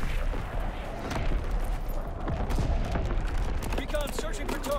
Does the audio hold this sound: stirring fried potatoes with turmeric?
no